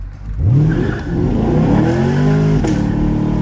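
A Chevrolet Camaro SS engine revs up sharply, its pitch climbing then dipping and rising again in a second loud surge, heard close and alone.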